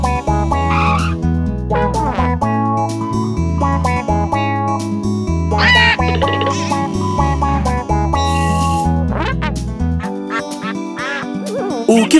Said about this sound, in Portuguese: Olha, é o pato.